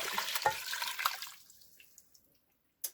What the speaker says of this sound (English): we're going to cover the rest of it with cold water